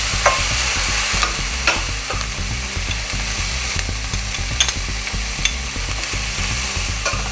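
Onions with ginger and green chillies fry in oil for a Tamil-style bread masala, a steady close sizzle punctuated by frequent scrapes and taps of a spoon stirring against the pan, with no talk.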